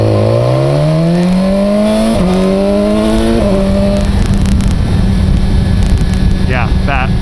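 A BMW S1000XR motorcycle accelerates hard, its engine note climbing through several quick upshifts, each marked by a short dip in pitch, before it settles into steady wind-blown cruising noise with faint distant sounds.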